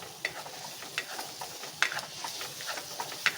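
Chili and coriander powders fry quietly in a pan, giving a soft sizzle broken by a few sharp clinks and scrapes as a spoon stirs them, with no voices.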